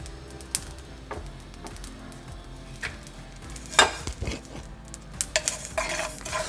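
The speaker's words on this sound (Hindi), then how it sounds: "देखिए चटचट की आवाज़ आने लगी है, बीज फूटने लगे हैं।" Seeds dry-roasting on a hot iron tawa, a soft bed of sizzle broken by scattered crackles and sharp little pops that grow more frequent toward the end, along with the scrape of stirring.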